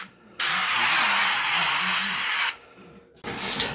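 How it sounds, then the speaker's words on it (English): A loud, steady aerosol hiss of cooking spray runs for about two seconds, stops, then a shorter spray burst follows. "Let me spray this. This is just canola oil just to make it easier to clean up."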